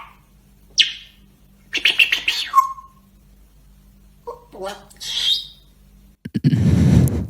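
Pet parrot chirping and producing speech-like babbling in short bursts of whistles, squawks and mimicked syllables, separated by quiet gaps, close to the microphone, ending in a louder rough squawk.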